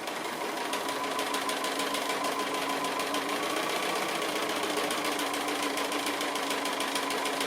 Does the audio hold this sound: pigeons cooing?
no